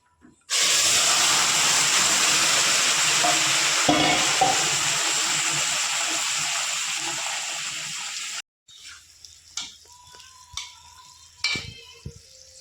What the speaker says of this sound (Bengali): বন্ধুরা, এবার মাছের ঝোলটা সম্বারে দিয়ে দেবো।